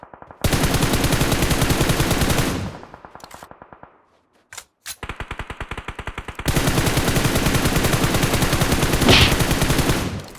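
Rapid automatic gunfire fires warning shots in the mobile game PUBG Mobile, long loud bursts with a brief pause and a few single shots in the middle before sustained firing resumes.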